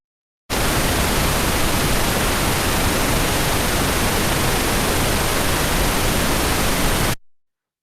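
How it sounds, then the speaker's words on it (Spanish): A pink noise test signal plays alone as a steady, even hiss resembling heavy rain, starting abruptly and cutting off cleanly after about seven seconds. "el ruido rosa, para que se hagan una idea, es esto."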